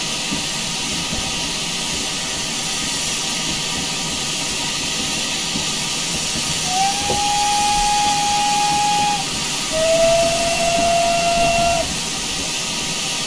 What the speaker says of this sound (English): Secondary whistle is pretty typical GWR secondary on just about every GWR locomotive available for CSC